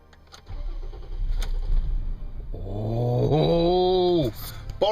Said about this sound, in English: Boris started. A little bit of a misfire, but he started.